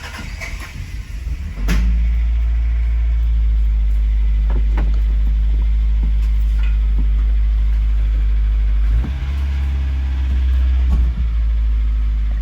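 Toyota Carina II, abandoned for eight years, cranks and fires up at close range, then settles into a loud, steady idle with a low rumble and a few faint clicks.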